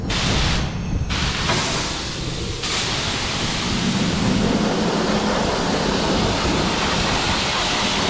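Pressure water spraying steadily over stripped parts from an E39 BMW Touring, a loud, continuous broadband hiss that holds at a constant level for the whole stretch with no talk.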